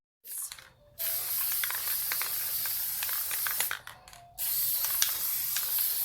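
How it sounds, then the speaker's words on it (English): Rust-Oleum frosted glass aerosol spray hisses onto a window in two long close bursts separated by short pauses, with faint clicks from the nozzle and no talking. "they actually make this frosted glass spray from Rust-Oleum"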